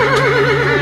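A horse neighs in a sustained, wavering whinny within a radio drama, loud and close, with a steady hum running underneath.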